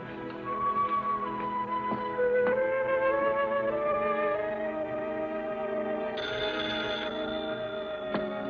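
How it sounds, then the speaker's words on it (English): An old telephone rings in a 1948 film noir, a continuous bright electric bell ring that is fairly loud and steady, with faint room echo and no voices over it. "Your phone's ringing."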